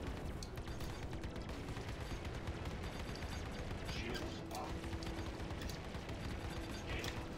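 Ship weapons fire from a Gladius fighter in Star Citizen during a co-op Vanduul swarm fight: a dense, continuous barrage of blasts and rumbling gunfire at steady loudness throughout.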